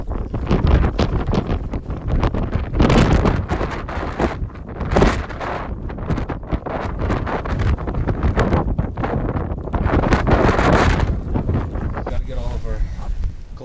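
Blustery, cold alpine wind in Patagonia on the Torres del Paine W Trek buffets the microphone in loud, roaring gusts that rise and fall throughout, with a few brief voices mixed in.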